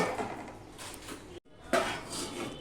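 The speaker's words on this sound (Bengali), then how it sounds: "এবার আমি ঢাকা দিয়ে দিই" A lid is set down on a cooking pot while a vegetarian mixed-vegetable curry with potato and papaya simmers, giving a short metallic clatter in the middle of steady kitchen clinks and scraping.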